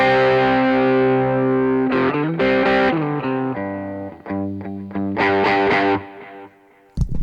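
Electric guitar played through a Boss Blues Driver and a germanium fuzz pedal, loud and distorted, with sustained chords and shifting notes ringing out, briefly cut off near the end before resuming.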